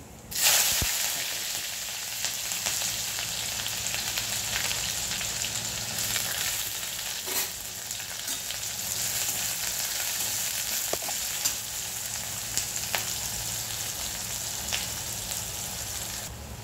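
Onion and garlic sizzle steadily in hot oil in a kadhai with cumin seeds while a spiced bhindi dish is being made. The frying hiss is loud and continuous, with occasional stirring scrapes and no talking.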